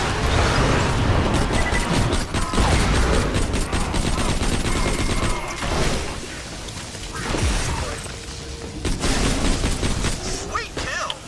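Dense, loud gunfire in Borderlands 2 fired at a Vine Freak: sustained rapid bursts and volleys with explosive cracks, running almost without a break, with game voices and effects mixed in.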